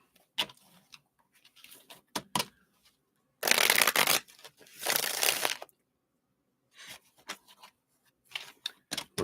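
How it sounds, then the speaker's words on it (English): Several bursts of a deck of cards being shuffled, crisp riffling rattles with short pauses between them, close by, and no talking. "One more shuffle."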